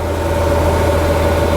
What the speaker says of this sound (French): on sent que le moteur ne tourne pas très rond. C'est un V12, mais on sent qu'il manque